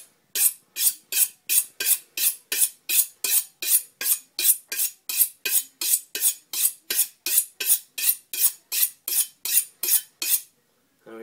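A kitchen knife is honed on a sharpening steel in a fast, even rhythm of about two dozen bright metallic swipes, each a crisp ringing scrape followed by a short silence.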